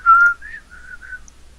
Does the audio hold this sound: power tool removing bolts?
no